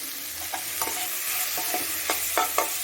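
Egg podimas frying with salt in a pan, its steady sizzle punctuated by clustered spatula scrapes and taps that grow busier toward the end, heard up close without voices.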